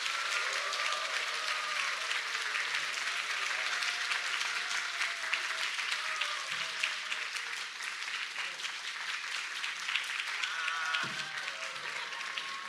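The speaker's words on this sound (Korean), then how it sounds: "박수로 맞으세요." A church congregation applauds steadily throughout a Sunday worship service, a dense, even wash of many hands clapping at moderate distance, with faint voices and a brief louder sound near the end.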